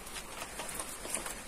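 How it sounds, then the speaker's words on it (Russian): Steady rain pours down outdoors at a building site, a dense, even hiss with soft irregular patter, growing heavier, and no voices. "Ох, дождик усилился."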